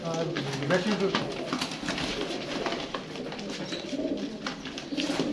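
Sialkoti pigeons cooing on a rooftop loft, soft repeated coos with bird calls close by, under steady talk throughout.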